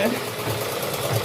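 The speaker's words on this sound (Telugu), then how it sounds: "ఎవరి సహాయం లేకుండా వీడియోలో చూస్తూ కుట్టు మిషన్ నేర్చుకుంటున్నావు" A home sewing machine runs in a steady whirring, rattling stitch, close by and continuous for a brief moment, with faint voices in the background.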